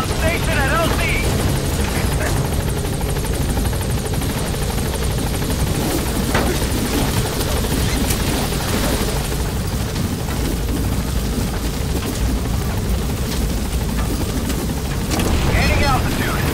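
Military helicopter lifting off from a landing zone in Metal Gear Solid V, its rotor thumping and turbine roaring loudly and steadily throughout, with radio-style voices speaking over the engine noise.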